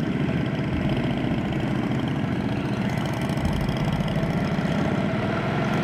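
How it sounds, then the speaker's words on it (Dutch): Motorcycle engine idling on a touring trip to the North Cape, a steady low rumbling drone that holds evenly throughout with no clear stall, close and fairly loud. "Ja, Ulrich was even de motor afgeslagen."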